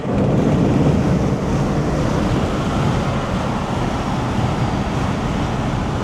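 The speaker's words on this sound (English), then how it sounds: "Yo, that wind is devious" Strong outdoor wind roars steadily and loudly, buffeting the microphone in a dense, unbroken rush with no voices.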